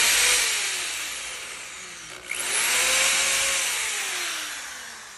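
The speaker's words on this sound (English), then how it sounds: "the next step is drilling a pilot hole" A power drill drilling a pilot hole for a screw in a mosaic piece whines loudly and steadily, dips briefly as it bites in, then spins back up and slowly winds down, close to the microphone.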